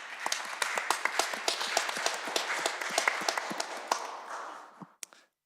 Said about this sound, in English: a round of applause for everybody that's turned up on the panel today